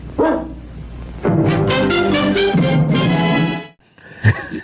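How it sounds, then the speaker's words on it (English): A dog barks indoors during a relaxed studio conversation, letting out a few loud, full-bodied barks in quick succession before a short pause and one final yelp. "Good dog."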